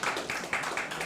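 A brief burst of clapping rises from the audience at a municipal council meeting in Sutton, a dense patter of many hands in a room.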